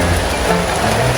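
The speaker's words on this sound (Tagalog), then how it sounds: "Lakas ng ulan, nababasa kami ni Mama Elma Katuwang." Heavy rain pours steadily outdoors, a dense, even hiss of drops hitting surfaces that stays loud and unbroken throughout, with no voices.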